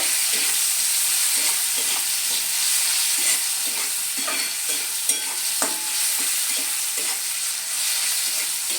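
A large sliced onion fries in a pan and is stirred steadily, giving a constant close hiss with repeated scraping strokes of the spoon for the whole stretch, with no voices.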